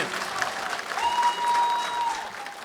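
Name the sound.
audience applause at a gala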